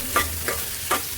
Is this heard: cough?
no